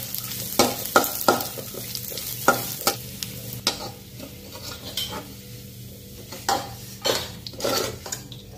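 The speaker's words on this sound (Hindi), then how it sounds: "सारे को हम थोड़ा सा रोस्ट कर देंगे" Almond slivers and dry dates roasting in a pan for lauki halwa, a spoon scraping and stirring in irregular bursts with soft rattling of the pieces, fairly close and free of talk.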